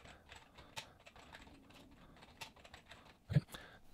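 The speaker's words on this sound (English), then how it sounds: "So I'm going to go to my text options, and we're going to type in." Quiet, close typing on a computer keyboard, with irregular light key clicks that come in quick bursts, plus one slightly louder tap near the end.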